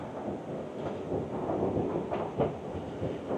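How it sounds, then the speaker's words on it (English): An Istanbul metro train pulls into the underground international airport station, a steady loud rumble of wheels and motors with rising surges and faint rail clatter, no voices. "I want to show you guys the metro arrival to the international airport in Istanbul."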